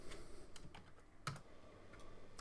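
Keys clatter on a computer keyboard while typing into an Excel spreadsheet, a few sparse clicks with one sharper keystroke in the middle, close and fairly quiet.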